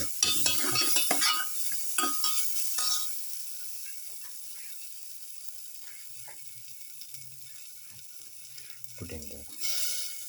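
Shrimp and cashews being stirred in a hot pan, a spatula scraping and clicking in rapid bursts over a soft sizzle, busiest at the start and then thinning to quiet intermittent scrapes.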